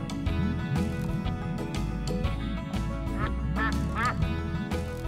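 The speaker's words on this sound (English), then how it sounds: "It's a duck." A duck quacks on the surface of the water, several loud nasal quacks in quick succession over a busy, continuous background.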